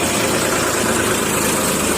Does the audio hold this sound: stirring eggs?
no